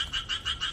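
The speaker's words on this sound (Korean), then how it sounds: "방금 개구리 소리 들리셨어요?" A frog croaks in a quick pulsing series of four or five rasping calls, close and clear with no other sounds.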